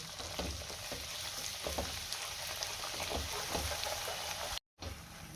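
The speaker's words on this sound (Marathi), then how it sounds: "थोडी बारीक चिरलेली कोथिंबीर घालूया आणि वाटण चांगलं तेल सुटेपर्यंत आपल्याला परतून घ्यायचे" Ground masala paste and chopped coriander sauté in hot oil for misal: a continuous, even sizzle with faint crackles throughout, close by, with a brief dropout near the end and no voices.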